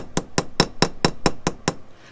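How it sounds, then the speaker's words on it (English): A jeweler's hammer lightly peens a copper rivet with eight quick, evenly spaced metallic taps, close and crisp, with no other sound around them. "you can go all the way around giving it slight little taps"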